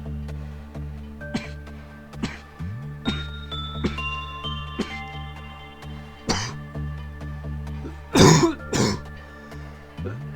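A person coughs and clears their throat repeatedly over a steady tonal background of game music, with short rough bursts spaced every second or so and a louder, harsher cough cluster near the end.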